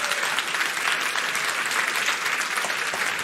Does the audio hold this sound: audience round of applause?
yes